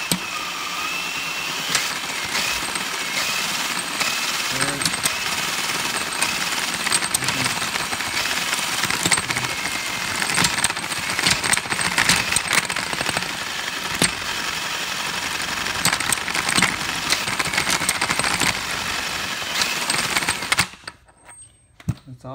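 A drill motor spins a Buell Blast motorcycle transmission to test its shifting, giving a loud, continuous whirring grind with rattling clicks for about twenty seconds before cutting off abruptly.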